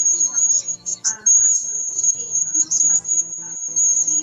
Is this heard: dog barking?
no